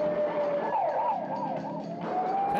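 An ambulance siren wails continuously, its pitch sweeping up and down in quick cycles, loud and close.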